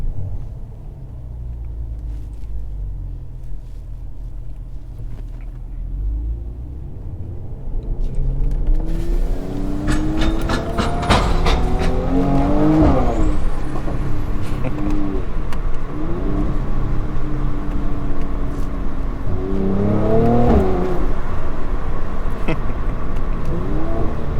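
A Mercedes C43 AMG engine rumbles loudly up close, then the exhaust growls and crackles through two strong revving bursts.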